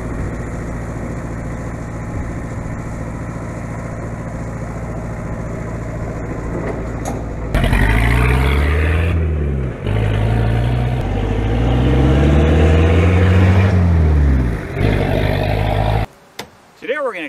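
An old barn-find early-1950s Hillman Minx engine that has sat unused cranks and catches at about 7.5 seconds, then revs loudly in rising and falling surges, oil spewing from the exhaust, before cutting out near the end.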